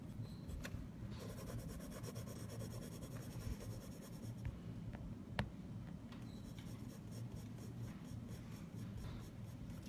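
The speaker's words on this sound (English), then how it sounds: "these are Prismacolor colored pencils" Prismacolor colored pencils rubbing and scratching on paper, a faint continuous scribbling of coloring strokes under a low background hum, with no talking.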